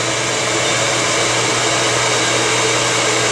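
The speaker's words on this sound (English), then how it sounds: "I blow dry it all forward to create some extra height in there" A hair dryer blows steadily and loudly while drying hair forward for height, a close constant whooshing roar with a low motor hum, unbroken and with no talk.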